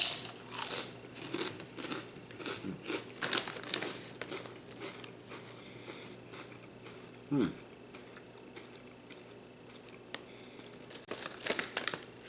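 Someone bites into and chews Lay's Greektown Gyro kettle cooked potato chips, producing close, crisp crunches and bag crinkles in irregular bursts with quieter chewing between them.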